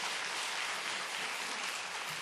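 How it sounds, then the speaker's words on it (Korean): Steady, dense applause from a church congregation welcoming new members, continuous and even throughout with no voices standing out. "박수로 환영하겠습니다."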